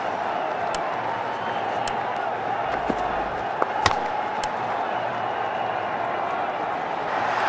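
A large stadium crowd at an India versus West Indies cricket match keeps up a steady broad roar with a few sharp cracks and claps, while a commentator talks over it.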